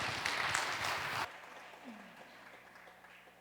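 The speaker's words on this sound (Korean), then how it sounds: "오늘 영접하신 분들을 위해서 박수로 한번 축복합니다." A church congregation gives a short burst of applause to bless new believers, loud clapping that cuts off abruptly after about a second, leaving a quiet room with a faint voice.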